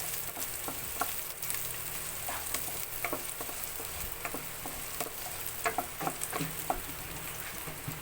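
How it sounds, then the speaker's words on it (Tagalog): Garlic sautés in a pan for a Filipino tilapia dish, giving a steady broadband sizzle with scattered small pops and occasional scrapes of stirring, moderately loud and continuous with no talking. "Isunod na natin ang bawang. Saute lang natin siya ng ilang minuto."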